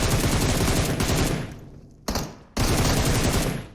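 Gunfire in the mobile battle-royale game PUBG Mobile: dense, loud bursts of rapid automatic fire filling the clip, cutting off briefly twice before resuming, close and unaccompanied by talk.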